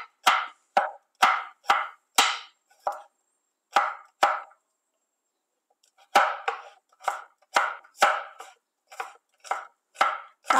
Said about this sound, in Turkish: Bunların üzerine bastırıyorum güzelce ve iri bir şekilde doğruyorum.